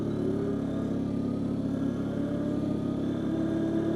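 Arctic Cat Diesel 700 ATV fitted with tracks, in two-wheel drive and low range, held at full throttle on a road, giving a constant loud, even diesel drone with no change in pitch.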